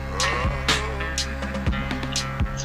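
A music track slowed down in chopped and screwed style, deep, dragged and pitched low, with thick sustained tones and periodic thumping beats running continuously without talk.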